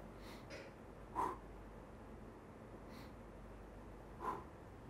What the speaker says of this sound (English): So when you sniff